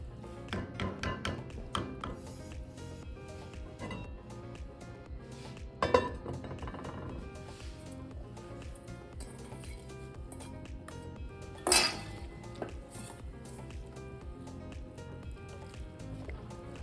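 Barley soup, the vegan Persian ash-e jo, is mixed in a cooking pot with soft, wet squishing and scraping, plus a couple of sharper clinks against the pot, fairly quiet, with no voices.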